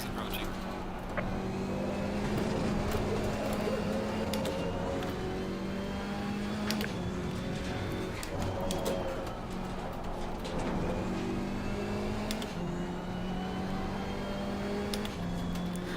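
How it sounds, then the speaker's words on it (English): A faster race car in Assetto Corsa Competizione at Donington closes in, its engine drone rising in pitch over a steady background car hum, while a driver talks over it. "The faster car is approaching."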